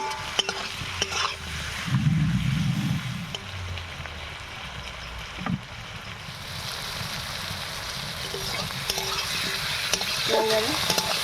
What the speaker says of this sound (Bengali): এবারে সমস্ত মশলা দিয়ে আমার এটা কষানো হয়ে গেছে।